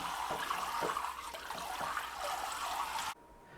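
Running water pours over raw pork being washed, a steady close rush with faint gurgling pulses for about three seconds before it abruptly cuts off into quiet.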